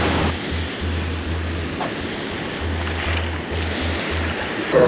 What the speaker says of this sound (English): The waves are pretty okay at this point, and the water is extremely beautiful